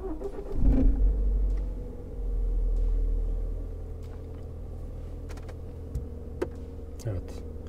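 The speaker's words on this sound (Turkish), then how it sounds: "Arabayı çalıştıracağım." A car engine cranks and catches close by, giving a short burst of noise before settling into a low, steady idle rumble with a few small clicks on top.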